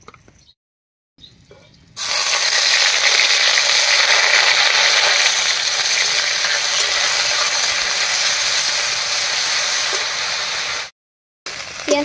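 Onion paste hits hot oil already seasoned with dried red chillies and whole garam masala for a soybean curry, a loud steady frying hiss that swells suddenly and holds for about nine seconds before cutting off.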